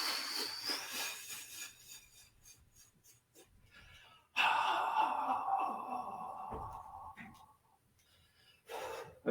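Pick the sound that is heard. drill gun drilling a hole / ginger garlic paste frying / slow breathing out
slow breathing out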